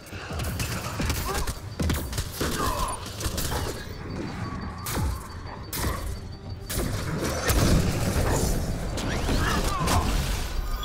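Flak Cannon blasts in Mass Effect Andromeda combat against Kett, heard as a continuous barrage of thumping shots and crashing impacts amid mechanical clatter and battle noise, loud and steady throughout.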